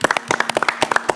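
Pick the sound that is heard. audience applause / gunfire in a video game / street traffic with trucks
audience applause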